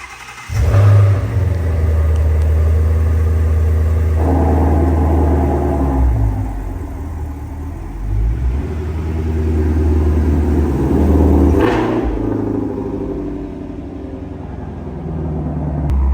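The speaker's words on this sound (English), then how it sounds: "the car is actually pretty loud for being a completely factory exhaust" A Shelby GT350 sports car engine with factory exhaust idles with a deep, loud rumble and revs up twice, the exhaust roaring and then settling back to a steady throaty drone.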